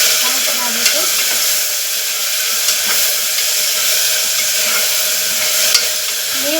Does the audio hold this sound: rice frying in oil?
yes